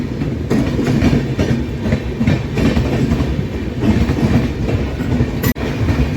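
A special passenger train from New Delhi to Saharsa runs along the tracks with a loud, steady rumble and rhythmic clickety-clack of wheels over rail joints, heard from on board.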